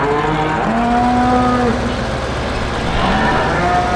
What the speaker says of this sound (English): This barn is for the beef cattle.